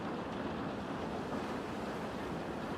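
Rain ambience used in an animation soundtrack, a continuous even hiss of falling rain with a low rumble beneath, steady and unbroken throughout with no voices.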